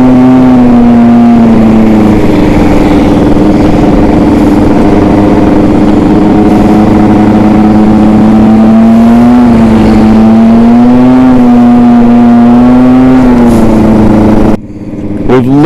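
A 70cc street race Jog scooter ridden at a winter scooter rally, its small two-stroke engine droning loud and close with slowly rising and falling revs, ending in an abrupt cut near the end.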